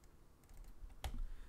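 Typing on a computer keyboard, a few soft keystrokes and then one sharper tap, close by and quiet, with no talk.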